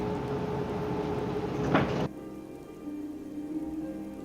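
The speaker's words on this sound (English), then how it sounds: "It starts to rain." Steady rain falls outdoors as a broad wash of hiss, fairly close and even, until it cuts off abruptly about halfway through, leaving only a faint low background.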